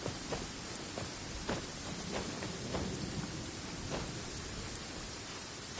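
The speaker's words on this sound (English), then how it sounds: "Where'd this rain come from?" Steady rain pours in Genshin Impact with occasional distant thunder rumbles, a continuous wash of noise at moderate level with no talking.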